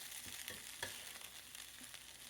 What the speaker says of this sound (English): Now we'll give it a toss and just flip it like this.